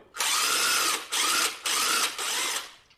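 A screw with a stripped thread spins endlessly in a cover guard under a power driver, a steady whirring buzz in four bursts with brief pauses, close and loud.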